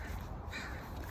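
A crow caws once briefly at a distance outdoors, faint against a steady background hum.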